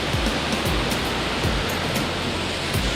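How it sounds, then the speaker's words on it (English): Continuous roaring rush of a waterfall in the White Mountains of New Hampshire, a dense, steady wash of noise with no voices. "This is honestly maybe one of the coolest waterfalls I've ever seen."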